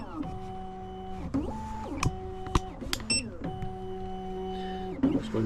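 A Black Widow key machine cuts a single sided GM key: steady tonal motor hums start and stop in segments, broken by clicks, a sharp snap and a brief high beep, all close and fairly quiet.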